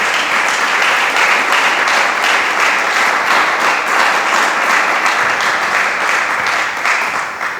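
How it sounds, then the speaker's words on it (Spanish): A church congregation claps steadily and loudly during a Spanish-language sermon, with dense, continuous applause and no talk over it. "Dele palmas al Señor."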